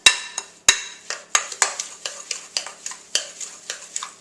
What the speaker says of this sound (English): And then we're just going to just stir that together.